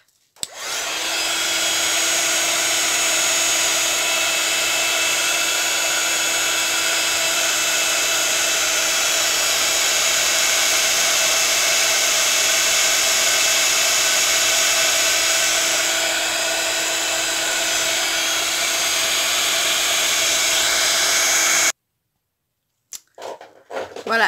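A hair dryer blows steadily on acrylic pouring paint laid on paper, a loud continuous whirring hum with a high whine that runs for over twenty seconds before cutting off abruptly.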